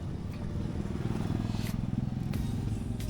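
A motorcycle or motor tricycle goes by on a road, with a continuous low engine rumble pulsing rhythmically and a few light clatters and scrapes on top, fairly close to the listener.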